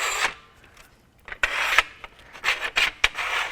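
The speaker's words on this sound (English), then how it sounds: "So we're going to slide those brackets in place." Tonneau cover brackets slid into the track inside a truck bed rail, giving several short, close metallic scraping and rasping strokes with brief pauses between them.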